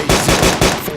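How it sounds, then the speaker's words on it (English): Enemy machine gun fire in a shooting video game: rapid, loud bursts of automatic shots chattering close by, in quick repeated volleys. "enemy machine gunner"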